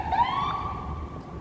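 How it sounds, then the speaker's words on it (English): An ambulance siren sounds as it passes, a single sustained wailing tone that rises and slowly fades over a rumbling background. "Ambulance. That's the one I don't like going by."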